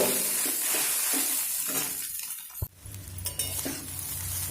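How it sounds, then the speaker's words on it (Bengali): Chow mein frying in a pan over a medium flame, a close sizzle with stirring scrapes that briefly drops away, followed by a sharp clink of utensil on metal before the sizzle resumes. "দেখুন চাউমিন আমি চার থেকে পাঁচ মিনিট ভেজে নিয়েছি"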